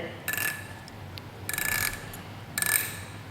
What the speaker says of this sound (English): Okay, so I'm going to spin the wheel